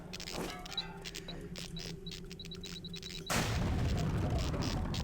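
In the video game Deus Ex, a tunnel-clearing explosion bursts in as a sudden loud boom about two-thirds through, then a sustained roaring rumble of debris, after a quieter stretch of faint ticking beeps and low ambience.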